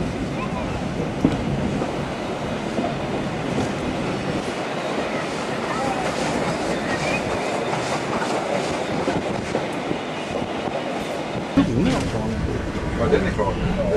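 A train runs along the Inlandsbanan railway in Sweden with a steady rumbling roll and rhythmic clickety-clack of the wheels, heard from on board, continuous for many seconds.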